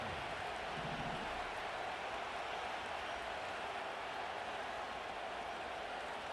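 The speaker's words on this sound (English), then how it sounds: "as this crowd rises to make things difficult" Stadium crowd roar from the video game Madden NFL 25 as fans rise during a two-point try for the win, a steady, broad wash of cheering noise that fills the whole stretch without breaks.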